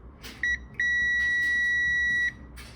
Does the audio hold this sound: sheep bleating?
no